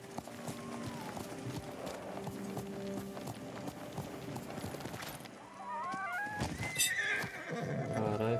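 Horse in the Ghost of Tsushima video game, with galloping hoofbeats under game sounds, then a loud, close whinny rising and falling near the end.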